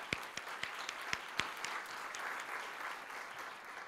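Warm applause from a concert audience honouring school music students, a few sharp individual claps at the start swelling into a soft, steady wash of clapping that continues evenly to the end.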